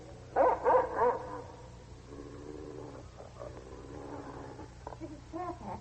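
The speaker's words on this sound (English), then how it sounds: "Mrs. Fairfax, what dog is that?" Dog barking in a 1946 radio drama of Jane Eyre: three loud, close barks in quick succession at the start, followed by a quieter stretch of low growly vocal sounds over a steady background hum.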